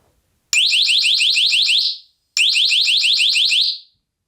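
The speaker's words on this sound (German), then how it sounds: "Modi Nummer 2 ist jetzt zweimal hintereinander ein Intervall von 8-mal Flash und 8-mal Ton" Two loud bursts of a rapid, shrill electronic alarm tone from a Nextorch ND30B flash bang distraction device, each about one and a half seconds of fast pulsing beeps, separated by a short silence.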